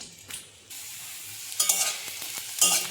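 Black cumin seeds and dried chillies hit hot oil for a tempering, giving bursts of crackling sizzle amid clicks and a sharp spatter near the end, close and moderately loud with no talking.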